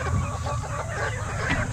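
Chickens cluck and murmur steadily at a farm poultry house with a mini farm, a dense, close flock chatter filling the whole moment without pause.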